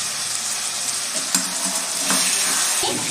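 Meat cooking with spices in a pan, giving a continuous close sizzle with occasional stirring scrapes, steady and fairly loud, with no voices.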